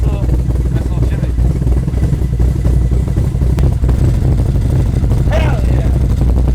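Lumpy, loping idle from an LS1 V8 fitted with a big cam in a Nissan Z32 on its first start, running rich, steady and loud throughout with a faint voice briefly over it.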